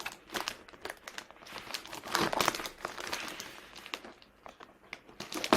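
Crinkly plastic kit packaging crackles and rustles as scissors cut it open, a close, steady run of sharp crumpling bursts with no talking.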